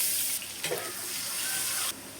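Onions frying in oil left over from frying chicken, a steady close sizzle throughout that briefly dips, with a stirring scrape and a softer hiss near the end.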